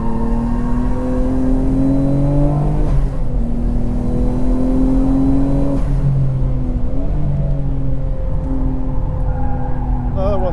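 A Nissan Skyline GT-R, R32 or R34, laps The Bend GT Circuit with a steady loud engine drone whose pitch rises and falls through gear changes, and the driver talks over the continuous in-car engine noise.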